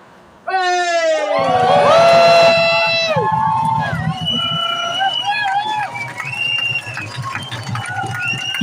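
Protest crowd outside the Guildhall in Cambridge yelling, whistling and cheering loudly, with sustained shrill whistles and a dense roar of voices throughout.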